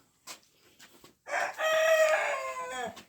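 A rooster on a household farm crows loudly and close by, one long drawn-out call after a few short clucks and rustles.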